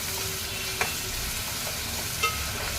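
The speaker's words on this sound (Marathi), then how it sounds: "त्यामध्ये घालते मी अद्रक लसणाची पेस्ट आणि हे पण आपण थोडं शिजून घेऊया" Onion with ginger-garlic paste sizzles steadily in a pan while being stirred, a continuous close frying hiss broken by two brief clinks of the spoon.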